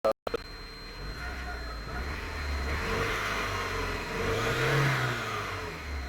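A Ford Capri XR2 accelerating on the road. The engine roar is loud and steady from start to finish, with a swelling, rising tone near the end, after a brief clunk at the start.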